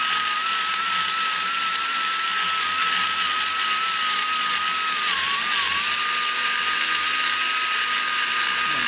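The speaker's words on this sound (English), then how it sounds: "because now I can take this burr" A carbide burr grinds inside the intake roof of a Chevy 186 cylinder head, a loud, steady high-pitched whine holding its pitch throughout with a brief dip midway, no voices over it.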